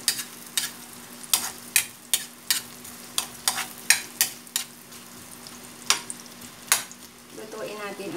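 Onion sautéing with browned garlic in a pan makes a soft sizzle under repeated sharp scraping and tapping strokes of a spatula, roughly every half second.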